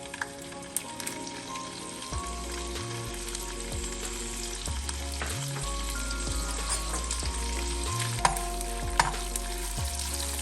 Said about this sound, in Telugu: ఇది ఇక బాగా కడిగిన మెత్తళ్ళు ఈ ఆయిల్లో వేసుకొని 1 నిమిషం ఫ్రై చేయాలి.